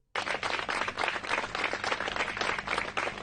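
Sustained applause from a crowd at a funeral farewell at Boğaziçi University, dense steady clapping that starts abruptly and continues throughout.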